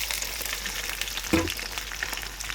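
Gongura leaves and green chillies fry in oil in a kadai with a soft, continuous sizzle, close by, and one brief louder clatter partway through.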